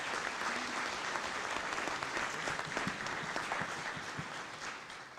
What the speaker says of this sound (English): A round of applause for everybody for their comments.